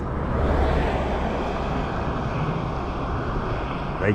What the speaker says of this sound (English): I hear the jet fighters back out.